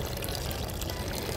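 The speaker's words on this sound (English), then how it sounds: "It's a lot of pressure and a lot of water moving right there." Water under high pressure surges from a fire hydrant through a hose, a steady, dense, loud rushing roar that stays even throughout with no pauses.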